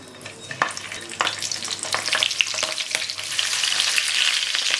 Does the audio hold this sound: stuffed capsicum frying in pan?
yes